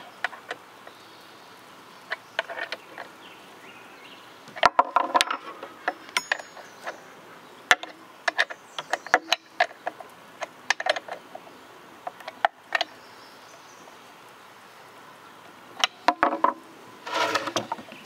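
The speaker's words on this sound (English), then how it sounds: "So we'll use our handy scrunch here to tighten this up." A scrench tightens the bar nuts on a vintage Stihl 031 AV chainsaw, giving sparse, close metallic clicks, ticks and scrapes scattered in irregular bursts over a quiet background.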